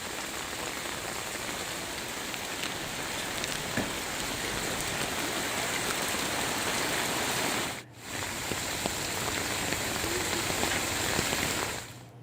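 Steady rain falls on a waterlogged street in Kashipur, a dense continuous hiss of drops on standing water that runs without a break and dips only for a moment near the end.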